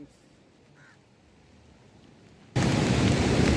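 Heavy rain starts suddenly and pours steadily and loudly near a lighthouse on the Tamil Nadu coast, after a quiet stretch.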